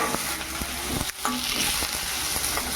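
Whole spices dry-roasting together in oil in a pan for a spicy Maharashtrian kat vada paste, a steady close sizzle broken by repeated scrapes and clinks of a spatula stirring, with no voices.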